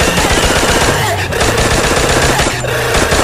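Continuous, loud automatic gunfire in the mobile shooter Free Fire, a steady rapid rattle of shots filling the whole moment with little pause.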